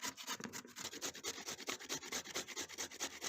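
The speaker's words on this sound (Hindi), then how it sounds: "सबसे पहले गाजरों को कद्दूकश कर लेंगे।" Carrots grated by hand on a kitchen grater for carrot halwa, a steady rhythmic rasping of repeated strokes, close and continuous with no talk.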